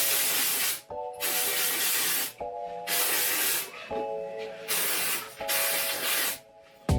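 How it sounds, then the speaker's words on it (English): Five long, close hissing sprays from an aerosol can of dry texture spray onto hair, each lasting about a second, separated by short quiet gaps. "I spray that everywhere except for like right at the roots"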